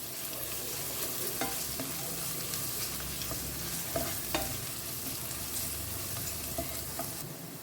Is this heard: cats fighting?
no